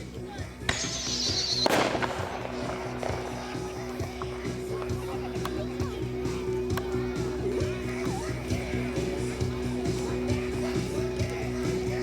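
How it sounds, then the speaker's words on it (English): A single super bomb artillery firework shell fires from its tube with a sharp thump, then bursts with a loud crack, followed by a long stretch of faint outdoor background noise. "All right, that was 1 super bomb."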